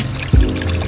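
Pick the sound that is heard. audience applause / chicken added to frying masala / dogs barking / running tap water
running tap water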